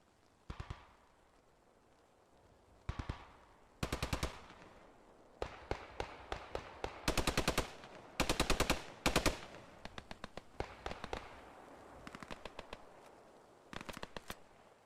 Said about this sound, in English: Sounds like a machine gun, maybe a bar, an allied bar.